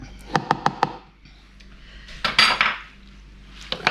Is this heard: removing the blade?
yes